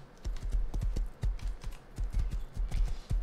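Horse hooves clip-clop in a steady, quick rhythm while riding in the video game Rust, clear and close, with repeated hoofbeats and no talk over them.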